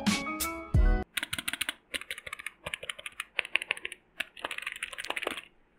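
Typing on a Cosmic Byte Veritas RGB mechanical gaming keyboard: rapid, close, crisp key clacks in uneven bursts over several seconds, following a brief louder handling clatter at the start.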